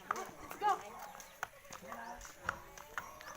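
Hooves of a white horse clip-clop on a road at a relaxed walking pace, a series of fairly close, crisp knocks that continue under someone talking.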